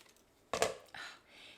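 Scissors snip off a flap of fabric scrap during a sewing project, heard as one short, quiet crisp cut followed by a fainter second snip nearby.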